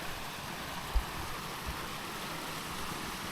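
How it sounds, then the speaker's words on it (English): A river flows near a wild camp on Kinder Scout, a constant soft rushing hiss of moving water heard alone in a quiet, sheltered spot, with a couple of faint low bumps. "All you can hear really is the river."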